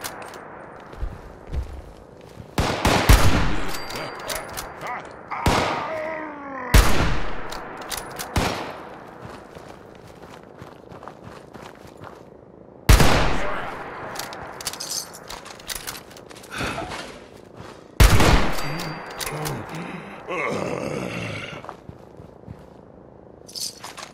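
Gunfire in the Fallout 76 beta, heard as several sharp, loud isolated shots and short bursts spaced a few seconds apart, each ringing out over a quiet background.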